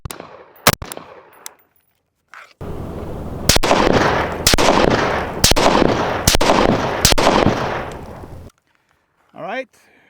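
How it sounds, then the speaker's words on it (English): Loud, close unsuppressed gunshots from a Tavor X95 5.56 rifle: several sharp single shots spaced a second or so apart over a loud sustained background, with brief quieter moments before and after. "fire off a couple of unsuppressed rounds, just get a, you know, see what that sounds like"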